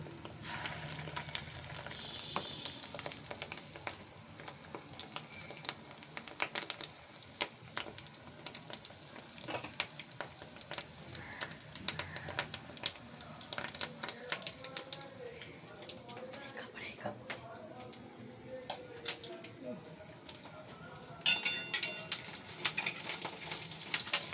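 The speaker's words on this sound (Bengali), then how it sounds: "এরকম ছোট ছোট করে দিয়ে বড়াগুলো ভেজে নেব" Small fish roe fritters fry in hot oil, a long, steady, fairly quiet crackling sizzle with faint bubbling and occasional clinks, and bits of background noise throughout.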